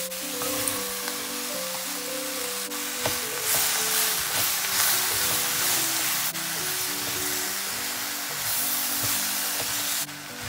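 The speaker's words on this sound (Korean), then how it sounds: "양파가 투명해지면 무와 비트를 넣고 다시 볶아줍니다" Radish and beet being stir-fried in olive oil in a pot with leek and onion, a steady, loud broadband sizzle with scraping stir sounds running throughout, no voices.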